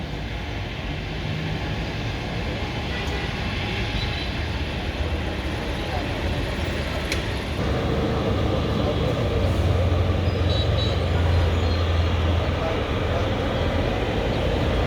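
A US-Bangla ATR propeller airplane's engines drone loudly and steadily as it lands at Dhaka airport, a constant heavy roar that swells slightly toward the end, with no voices.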